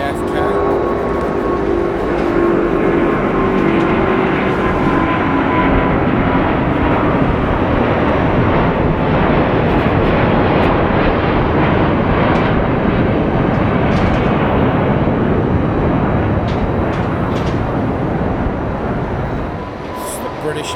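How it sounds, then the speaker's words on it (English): A Virgin Atlantic Airbus A350 roars down the runway at Heathrow on takeoff, a broad steady jet rumble holding strong for many seconds before slowly easing. "Virgin Atlantic's Airbus A350 off to JFK."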